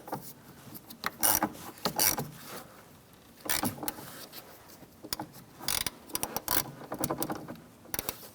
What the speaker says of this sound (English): We're going to use an 11mm socket. We're going to remove this nut right here.